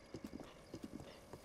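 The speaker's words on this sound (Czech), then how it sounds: "Jedu na koni, ježišmarja, jedu na koni." Horse hooves galloping in Zelda: Breath of the Wild, a steady rhythmic clip-clop of paired beats repeating throughout, moderately close and clear with no talk over it.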